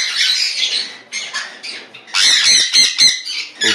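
Sun conure parrots in a breeding pair screech in harsh, shrill bursts, several squawks in quick succession close by, with short gaps between calls and no talking.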